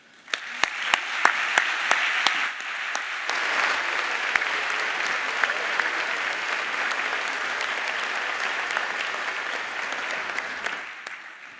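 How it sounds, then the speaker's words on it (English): A convocation ceremony audience breaks into a warm round of applause for a jazz quintet, loud sustained clapping from a large crowd that swells, holds for several seconds, then fades out. "may I ask you to join me in giving a very warm round of applause"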